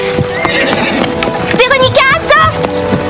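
A horse whinnies twice in rising, wavering calls over a running clip-clop of hooves, fairly close, with people talking in the background.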